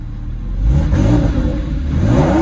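A 2008 Porsche 911 Carrera 4S engine revs up loudly with its exhaust valve open, throaty, rising and falling in pitch close by.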